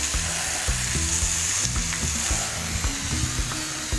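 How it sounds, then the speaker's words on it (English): Potatoes and red onions sizzle loudly in a hot skillet, a dense, steady hiss of frying with occasional scraping and clinking from stirring, close up and with no voices. "Love the sound of a hot skillet."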